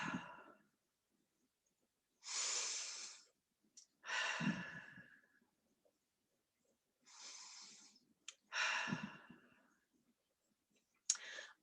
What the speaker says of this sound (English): take 3 deep inhales and exhales to relax your body